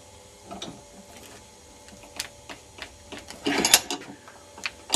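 A laptop charger casing is pried open in a vise, with small clicks and ticks followed by a brief cluster of cracking and creaking plastic, close and fairly quiet, with no talking.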